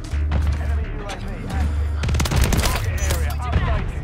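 WSP Swarm submachine gun firing in Call of Duty MW3: rapid, loud automatic bursts that cluster mid-way, over a low rumbling game soundscape, with a voice talking now and then.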